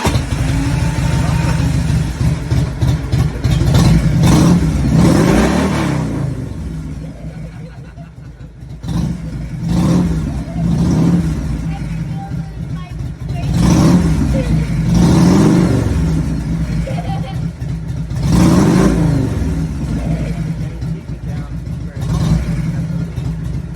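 A 1979 Harley-Davidson Ironhead Sportster fires up and revs in repeated surges, each blip rising and falling over a lumpy idle. It sounds close and loud, with occasional talk between the revs.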